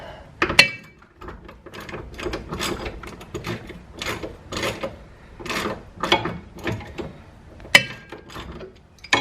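Ratchet wrench working a bolt back and forth, tightening and loosening during a car maintenance job, giving repeated rasping clicks in short bursts at close range.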